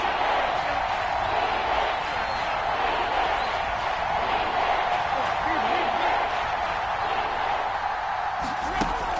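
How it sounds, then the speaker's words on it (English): A crowd in a football video game cheering steadily in a stadium, a constant loud roar with no breaks, under a commentator's talk. "Crowd getting in it a bit already"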